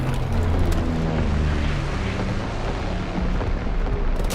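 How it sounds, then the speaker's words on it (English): Heavy enemy artillery explosions in the World War II shooter Call of Duty WWII, a continuous loud rumbling barrage of booms with no pauses or talk. "Get to cover"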